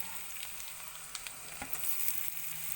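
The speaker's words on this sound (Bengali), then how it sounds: "তো এবার এর মধ্যে আমি টমেটো দিয়ে টমেটোগুলো ভালো করে মিক্সড করে ভেজে নেব।" Tomatoes fry with browned onions in a pan for a duck egg curry, a soft continuous sizzle with faint scraping of stirring, heard alone at a low level.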